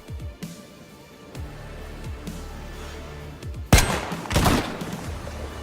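Gunfire in the survival game DayZ, with rifles like an R12 and an SSG. A few quiet shots come early, then a loud sharp burst near the end, followed by a second heavy volley.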